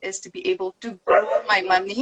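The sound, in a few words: dog barking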